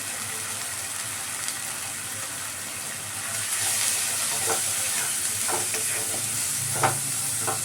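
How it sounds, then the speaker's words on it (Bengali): Spices such as turmeric, chili powder, cumin powder and salt fry in a pan, with a steady sizzle and scraping stirs that clatter a few times, growing slightly louder midway, no voices. "এটাকে ভালো করে ফ্রাই করে নেব।"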